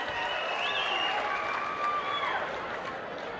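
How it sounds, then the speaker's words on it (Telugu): An audience at a public government gathering applauding: a steady, dense wash of clapping that holds for several seconds at a fairly even level, with faint voices mixed in. "గట్టిగా చప్పట్లు కొట్టి అభినందించండి."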